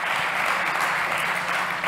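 Audience applause at a startup pitch competition on mobility and smart cities, following a pitch by an aerospace company founder; dense, steady clapping from a sizeable crowd that holds at a constant level throughout, with no speech over it.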